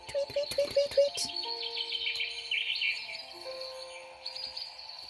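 Several birds chirp and tweet in quick, bright bursts, a rapid string of calls at first, then scattered trills, fairly close and clear.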